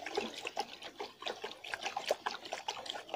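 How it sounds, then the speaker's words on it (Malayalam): Water poured and splashing into a bone meal fertiliser mix for a curry leaf plant, a steady, close trickle with bubbly splashes and no talking. "3 കപ്പോളം നമുക്ക് വെള്ളമൊഴിച്ച് കൊടുക്കാം"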